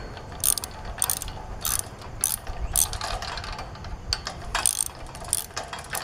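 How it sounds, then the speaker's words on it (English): A ratchet wrench with a deep socket tightens a nut on a chain link fence gate, giving repeated rapid clicking bursts close up, with short pauses between strokes. "And then using a socket."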